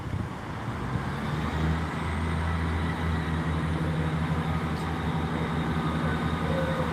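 Train pulling away from a station platform in Gloucester after its brakes release, a loud, steady low rumble and engine drone that builds slightly and holds, heard from close by with no talking.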